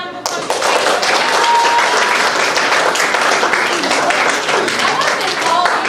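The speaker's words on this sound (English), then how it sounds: "Can we give her a round of applause?" Audience at an elementary school spring recital applauds a teacher, Ms. Palmer, with dense, sustained clapping that fills the room for several seconds, a few voices mixed into the crowd noise.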